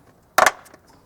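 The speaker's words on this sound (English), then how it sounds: "We got to make sure we snap in this plug" A plastic plug snaps into the right front door moulding of a Gen 3 Toyota 4Runner Limited, a sharp close double click followed by a few faint taps.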